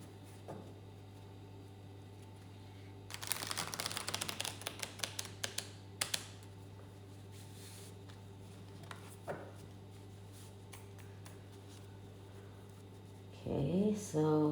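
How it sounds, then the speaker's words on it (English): A quick burst of crisp clicking and fluttering, like cards being riffled together, lasts a few seconds, then a couple of soft taps in a quiet room. "And let's shuffle the deck again."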